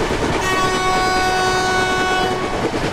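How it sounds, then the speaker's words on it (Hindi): An oncoming train passes in a train video game, with Vande Bharat Express and WAP-7 locomotive scenery, a loud steady roar of rolling rail noise with a sustained horn tone held throughout. "देख लो, कोई ट्रेन आ रही है सामने से"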